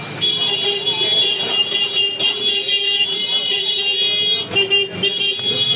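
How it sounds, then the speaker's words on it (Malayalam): Car horns honk over steady street traffic near Kashi Vishwanath Temple, with a sustained blaring horn tone running throughout and brief sharper toots near the end. "ഇതാണ് വിഷയം ഇവിടുത്തെ ഹോണടി"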